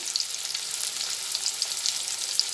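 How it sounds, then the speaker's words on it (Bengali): Potatoes frying with turmeric and salt, a continuous bright sizzle with small crackles and pops, steady and unaccompanied by speech. "নুন দিয়ে এরপরে আলুগুলোকে ভেজে নিচ্ছি"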